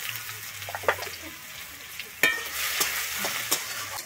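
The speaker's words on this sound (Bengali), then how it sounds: "এরপরে দিচ্ছি আমি কুচানো রসুন।" Chopped garlic frying in oil in a pan with whole cumin, a soft sizzle running under several sharp stirring clatters and scrapes, close and moderately loud, no talking.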